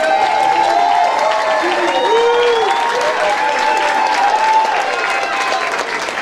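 Applause and some cheering from a school audience for students taking a bow at a Grinch production, steady clapping throughout with a wavering tone sounding over it.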